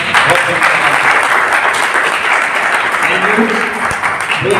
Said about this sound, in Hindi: मैं चाहता हूँ लोगों से दिल से ताली बजाएं।